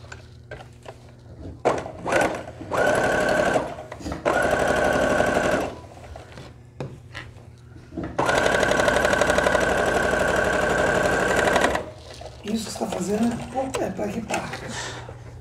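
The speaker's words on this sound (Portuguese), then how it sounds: "ela tá costurando" A sewing machine stitches the seams of a doll's sleeping bag in loud, rapid whirring bursts, one longer run after a pause, with people talking quietly in the gaps between runs.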